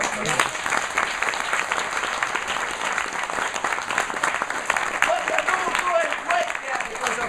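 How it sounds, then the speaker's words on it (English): An audience at a Scottish evening show gives a round of applause: dense, continuous clapping from a sizable crowd, steady and fairly near throughout. "And another round of applause, I think, for"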